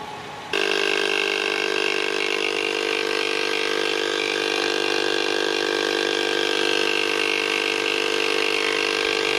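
Yokaro portable air compressor inflating a car tire, switching on abruptly and running with a loud steady mechanical drone and whine at close range.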